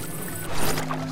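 Water gushing out of a drained tank in Zelda: Breath of the Wild, a brief swelling rush that rises halfway through and holds steady to the end.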